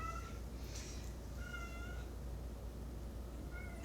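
A cat playing with a twist tie gives a few short, high meows with pauses between them over a quiet room hiss.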